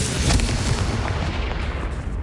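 The Confringo blast spell goes off in Hogwarts Legacy on PS5, a booming explosive burst that rolls on as a dense, rumbling roar through the whole moment, with no talk over it.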